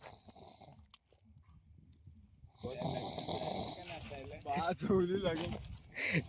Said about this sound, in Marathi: बघा बाकी जेवण डाराडूर घोरतोय